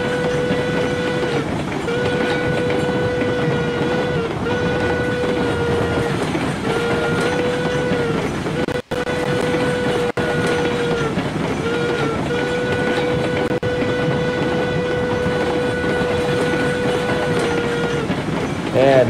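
Rolling locomotive in the railroad simulator game Railroader sounds a steady train whistle in long repeated blasts over continuous wheel rumble and clickety-clack, close and loud throughout.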